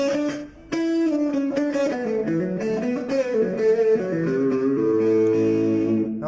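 An electric guitar plays with both pickups combined in phase, giving a sweet tone as a sustained chord ring is followed by a run of plucked notes and chords, close and clear with no talking.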